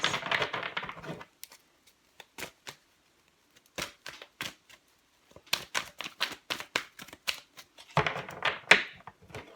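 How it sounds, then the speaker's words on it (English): Bursts of crisp shuffling of large tarot cards, riffles and taps separated by short pauses, close and fairly quiet. "It's quite sore sometimes to shuffle them"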